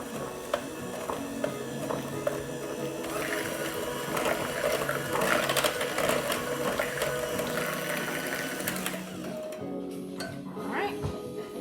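Electric mixer beating pecan pastry batter in a home kitchen, a steady whirring motor hum with rattling against the bowl that runs throughout, ending abruptly near the close.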